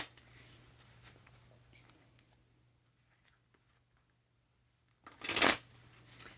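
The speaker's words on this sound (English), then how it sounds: "I'm just shuffling tarot cards." Tarot cards shuffled indoors in a quiet parlor, with soft papery riffling early on and then one loud, close burst of rapid card flutter near the end.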